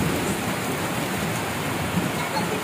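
Heavy rain pours steadily and close by during a flood, a dense unbroken hiss of downpour that holds at the same loud level throughout.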